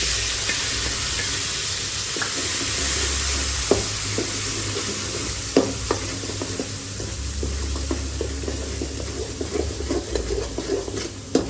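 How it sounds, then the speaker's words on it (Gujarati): Garlic and green chili paste sizzles steadily in hot oil with mustard seeds and asafoetida for pav bhaji, a constant close frying hiss broken by scattered spoon scrapes and light clinks as the pan is stirred, with no voices. "ત્યારબાદ આપણે જે લસણ અને મરચાંની જે ખાંડીને જે પેસ્ટ બનાવી તે નાખશું."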